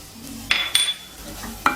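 A spoon stirs cut coconut into a chickpea curry masala, producing a few sharp metallic clinks against the pan over a quiet sizzle, close by.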